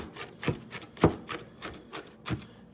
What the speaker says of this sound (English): Just keep kind of chopping, putting them in a pile